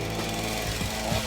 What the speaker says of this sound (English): get the chainsaw on it and kind of See what's inside